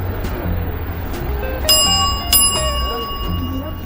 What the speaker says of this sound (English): Right, the polite bell.